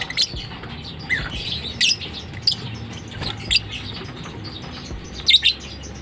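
Lovebird chicks chirping inside a nest box, giving several short, faint high chirps scattered over a low background hum, with no talking.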